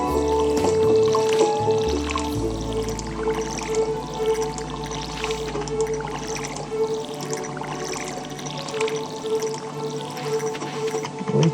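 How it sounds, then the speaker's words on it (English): Watering crops in Stardew Valley, with soft game splashing and dripping sounds repeating at an even pace over a steady music bed, with no talk. "So we'll just water the crops we have for now."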